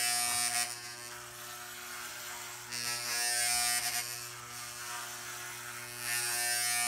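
Electric hair clippers buzz steadily through a short haircut done indoors, the motor hum loud and continuous with slight swells as the blades move through the hair.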